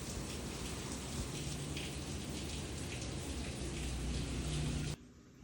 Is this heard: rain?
yes